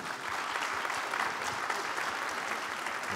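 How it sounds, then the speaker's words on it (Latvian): A forum audience applauds after the ceremonial signing of a memorandum on electricity and heating cooperation, at AC/DC Tech 2024. The steady, even clapping of a mid-sized crowd is heard at moderate distance throughout. "Ar aplausiem!"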